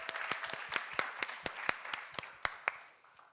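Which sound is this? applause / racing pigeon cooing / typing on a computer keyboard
applause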